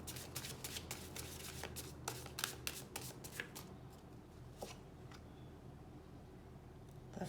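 A tarot deck shuffled by hand in quick riffling bursts up close, the flicks dense at first and then thinning into a few scattered taps before fading to near quiet, with no talking.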